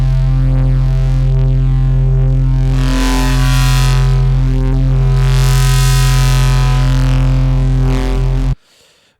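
An FM synth keys patch shaped by waveshaping, spectral compression and EQ plays loud sustained chords with a strong low bass tone and bright, swelling upper harmonics that rise and fall twice, then cuts off abruptly.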